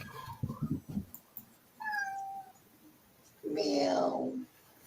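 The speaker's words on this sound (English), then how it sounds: "Meow." A cat meows twice after a moment of indoor talk: a short tonal call, then a louder, drawn-out meow that rises and falls, close to the mic.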